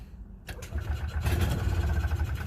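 A car engine cranks and fires up with the choke pulled out, catching after a short quiet moment and settling into a loud, steady rumbling run close by.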